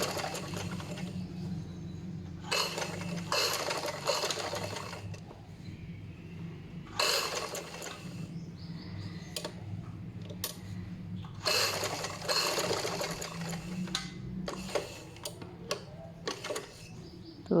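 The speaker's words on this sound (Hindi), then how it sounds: "बहुत आहिस्ता आहिस्ता मशीन चलाएंगे।" A sewing machine run very slowly stitches an Eid dress with a tissue daman, giving short mechanical whirring bursts separated by brief pauses over a low steady hum, close and fairly quiet.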